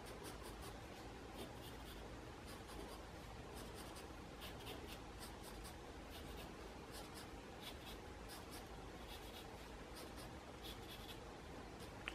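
A pencil scratches steadily and continuously across paper at close range, as soft, even rubbing strokes over a quiet hiss, with no voices.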